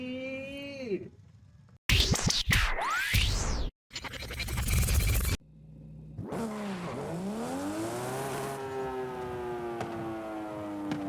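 A Toyota Supra's engine revs and whines in Forza Horizon 5, rising and falling in pitch through hard, loud bursts, then settling into a steady, sustained drone.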